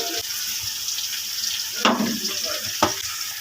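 Mustard greens frying in a pan with onion, garlic, chili and cumin, a steady close sizzle with a few louder stirring scrapes and clatters, no talking.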